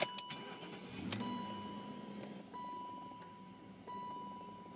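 An idling car engine bogs and falters as the accelerator is pressed, heard faintly close by, while a steady electronic tone beeps over it.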